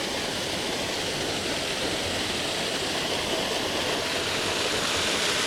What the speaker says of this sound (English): these torrents running off the hill